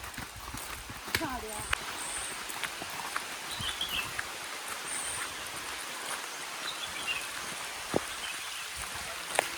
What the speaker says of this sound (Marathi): परत पाऊस आला आहे आणि एकान पण छत्री आला नाही